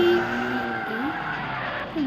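A car skids in the street-racing video game CarX Street, its engine whine and sliding tyre squeal gliding in pitch, moderately loud with a brief dip and a fresh squeal near the end.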